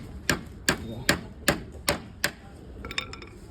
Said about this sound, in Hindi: अब दूसरी तरफ की ठोक रहे हैं